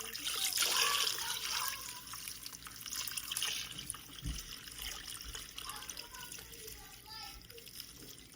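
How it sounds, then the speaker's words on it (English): Distilled water is poured into a cooking pot for ramen broth, a close trickling splash that swells at first and then thins to a lighter dribble, with soft talking underneath. "Now we're going to pour our distilled water"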